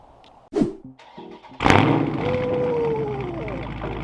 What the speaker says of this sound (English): let me let you hear how this engine sound like